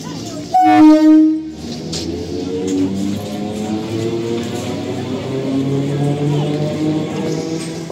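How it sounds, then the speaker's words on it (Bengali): A loud train horn blasts at the start as a train arrives, followed by the steady rumble and clatter of the moving train carrying on to the end. "হর্ন দেবে।"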